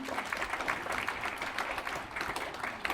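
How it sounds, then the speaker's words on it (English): An audience at a philanthropy conference plenary session gives a sustained round of applause, dense clapping continuing evenly and somewhat distant throughout. "let's give them one last round of applause"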